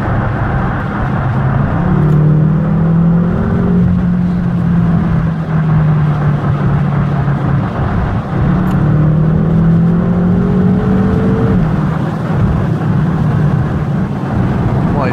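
BMW M5 accelerating hard from inside the cabin, the engine note climbing steadily in two long rising sweeps with a whirring edge, loud and continuous over road noise.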